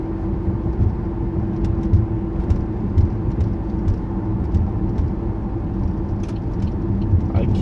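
Road and engine rumble from inside a car driving toward East Lansing after an MSU game, with a steady low drone of tires and motor and occasional faint knocks, continuing throughout with no talk.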